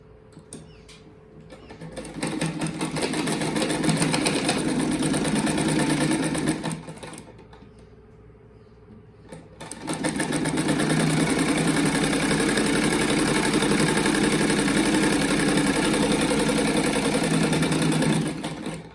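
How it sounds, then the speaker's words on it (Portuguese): Sewing machine stitching together fabric strips in alternating colours for a fluffy children's-room rug, running in two long continuous bursts separated by a short pause, loud and close with no talking. "Então, eu vou costurar"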